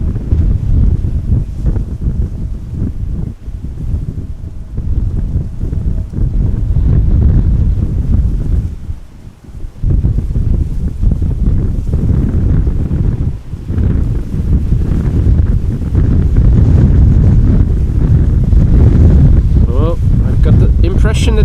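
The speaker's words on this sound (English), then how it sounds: "That the wind is actually picking up a little bit," Strong gusty crosswind at Amsterdam Schiphol Airport roars and buffets the microphone continuously, loud and steady with one brief lull midway.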